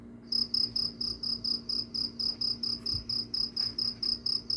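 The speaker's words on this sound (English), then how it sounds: "I hear some crickets" Crickets chirp in a steady, evenly spaced rhythm of high trilling pulses, fairly close and clear, with no voices.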